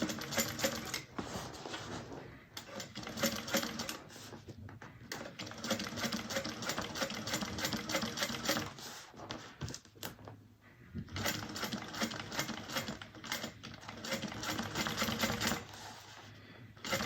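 A sewing machine topstitches a fabric bag, running in long, fast, rattling stretches broken by brief pauses, close and steady with no talking.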